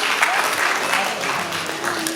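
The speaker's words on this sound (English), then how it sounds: "Y'all clap it up." Audience at a Kwanzaa celebration event at Malcolm X College clapping for first-time visitors, a dense, steady burst of applause close by that carries on without break.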